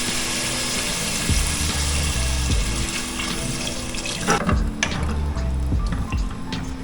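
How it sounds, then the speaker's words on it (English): Water poured into a cooking pot of pork browned with garlic for Filipino pork sinigang, a steady running splash under clattering and clinking, with the pouring easing off after a few seconds. "Now we put water."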